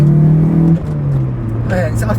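Engine of a 1987 Toyota MR2 AW11 with an aftermarket exhaust, a loud steady drone with strong tonal harmonics that dips and shifts pitch midway, heard from inside the car under the music and a voice.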